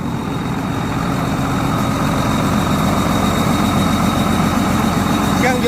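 The engine of a combine harvester runs at a steady, loud idle, a low rumbling drone with a rattling texture close by.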